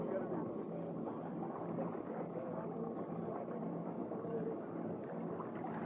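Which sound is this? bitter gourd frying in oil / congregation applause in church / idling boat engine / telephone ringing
idling boat engine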